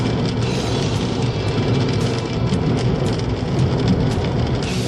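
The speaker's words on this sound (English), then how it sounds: "We're probably inside the thunderstorm that we were seeing all afternoon." Steady heavy thunderstorm rain drumming on a moving vehicle's roof and windshield, with a continuous low road rumble underneath and no voices.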